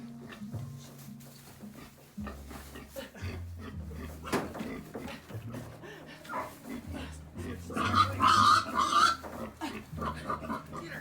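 A pig on a hog farm grunts and snuffles close by in a string of low, uneven bursts, with a person talking and other animal noises mixed in.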